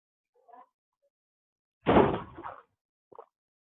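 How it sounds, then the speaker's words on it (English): A door closes in a lecture room with one solid thud, a short rattle trailing after it, then a faint click, set against near silence. "Close the door."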